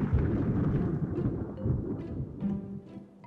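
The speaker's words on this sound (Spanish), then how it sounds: "Esta vez vi el rayo primero y solo después escuché el trueno." Low, rolling thunder rumbles in the distance, swelling and fading with no voices present.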